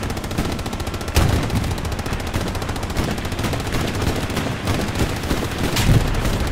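Sustained battlefield gunfire in Hell Let Loose as anti-tank fire hits a Panzer IV, with dense overlapping rifle and machine-gun bursts, several heavier booming impacts near 1.2 and 6 seconds, loud and continuous throughout.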